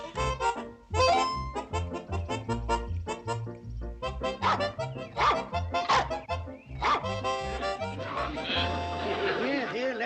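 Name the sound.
dog barking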